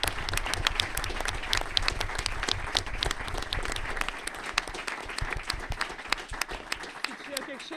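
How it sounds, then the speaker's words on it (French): Sustained applause from a club general assembly crowd honoring a departing referee, dense hand claps filling the room at steady volume for several seconds, easing slightly toward the end with a few voices underneath. "je voudrais qu'on fasse une petite acclamation pour Dédé pour le remercier très fort."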